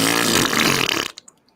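A long, loud, sputtering fart noise lasts about a second up close, ending abruptly with a few faint trailing pops.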